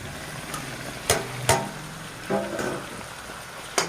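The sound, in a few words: tomatoes frying in pan for eggplant curry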